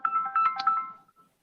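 Phone ringtone for an incoming call, a short electronic melody of several bright tones lasting about a second, clear and close with no talk over it.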